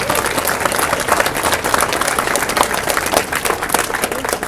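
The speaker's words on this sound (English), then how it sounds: "How about a round of applause for them?" Crowd of fans applauds steadily at a Lambeau Leap statue unveiling, dense clapping holding at an even, fairly loud level throughout with a faint voice or two mixed in.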